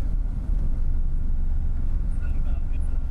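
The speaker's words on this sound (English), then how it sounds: "Idling is very stable." A carbureted rotary-engine car idles steadily on the street, a loud, even low rumble with some wind buffeting on the microphone, while people talk nearby.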